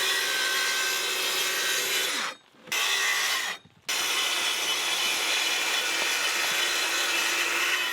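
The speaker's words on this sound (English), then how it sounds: "I can make my day better by cutting my track in half and making some straight cuts with it" A track saw ripping straight cuts through wood at a small side deck and stairs build, a loud continuous buzzing cut that stops briefly twice before carrying on close by.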